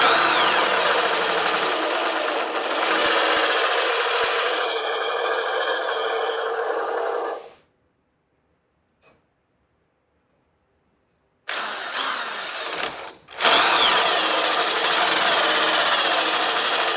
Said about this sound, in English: the drill's not liking it very much, and now I'm smoking out the brushes again